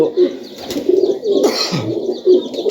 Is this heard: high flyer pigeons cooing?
yes